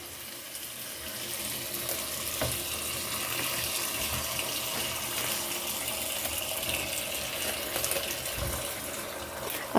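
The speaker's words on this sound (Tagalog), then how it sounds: "ang una nating gagawin ay hugasan natin to" Tap water runs steadily into a kitchen sink while Chinese cabbage is rinsed under it, a continuous close gushing with small splashes and shifts as the leaves are handled, no voices.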